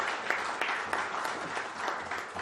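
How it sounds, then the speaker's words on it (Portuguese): Applause in the Brazilian Senate chamber, a dense, steady clapping from a crowd that goes on for the whole stretch at an even, fairly loud level. "As palmas estão liberadas agora."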